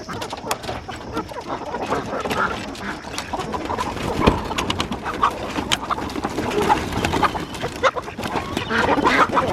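Several chickens cluck and murmur close by in a busy, lively flock working a garden area, with scattered pecking and shuffling sounds throughout.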